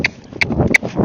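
Hooves of a Tennessee Walking Horse cantering in an arena give a few sharp, close thuds in quick succession, with low rumbling between the strikes.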